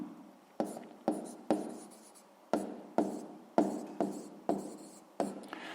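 Pen or chalk strokes writing out the solution to a sixth-grade math exercise, a series of short scratchy bursts with pauses between them, close and fairly quiet, with no talking.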